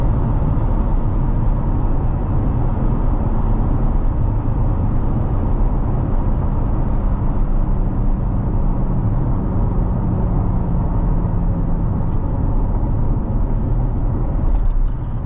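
A 2020 Chevrolet Corvette C8 3LT Z51 on a test drive, heard as a loud, constant low engine and road drone inside the car with no clear rise or fall in pitch.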